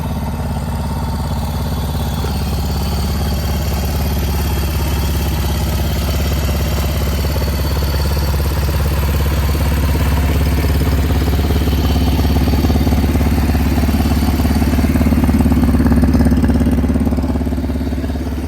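A restored 1965 Honda CL-77 motorcycle idles warm without choke, its engine loud and close with a steady, even putter that swells slightly near the end.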